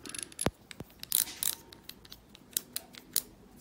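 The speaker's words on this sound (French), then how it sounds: "je viens serrer ici, jusqu'à ce que l'engrenage déclenche" A micrometer's ratchet clicking as its spindle is slowly tightened onto a screw, giving a series of sharp, close, irregular ticks and snaps.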